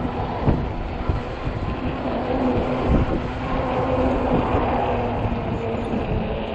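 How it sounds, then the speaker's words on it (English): Strong, cold wind buffeting the microphone while riding a 20-inch 48V fat-tire e-bike on a ride to Kwik Trip, a steady loud roar with occasional gusty thumps and no talking. "Wind is wicked. Yes, it is. And cold."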